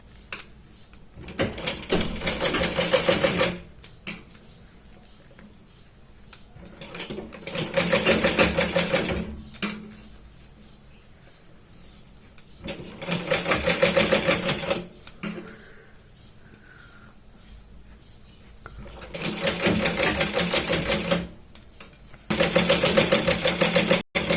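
A sewing machine stitches round piping onto a blouse back neck, running in several loud sustained bursts of rapid needle clatter with short pauses in between.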